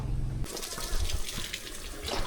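Hot water pours steadily over field frogs in a rural outdoor setting, a continuous close splashing and gushing stream that begins abruptly and runs throughout.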